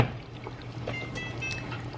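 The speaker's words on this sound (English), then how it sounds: "I'm gonna go ahead and pour in the cream now" Cream is poured into simmering butter chicken in a pan, a soft, close liquid pour and trickle over a low steady hum, with no talking.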